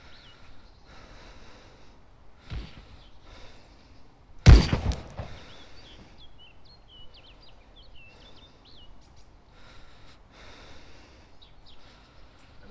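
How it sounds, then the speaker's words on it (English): A single sharp gunshot cracks out in the DayZ video game, loud and close against a quiet outdoor backdrop with a soft rustle and faint chirping birds, followed by a fading echo. "I'm getting shot at."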